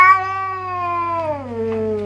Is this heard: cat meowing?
yes